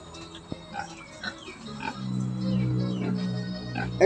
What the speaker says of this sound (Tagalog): Ito po yung baboy ko na medyo may ubo po hanggang ngayon.